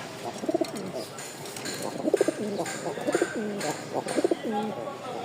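Rajgolla pigeons at a small bird sale in Mirpur-1, Dhaka, coo in repeated throaty rolling phrases, close and fairly loud over faint background hiss.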